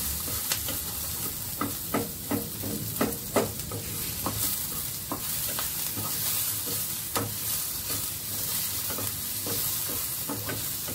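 Onions sauté in a pan for an onion tomato chutney, sizzling steadily while a spoon stirs and scrapes in irregular, repeated strokes close up.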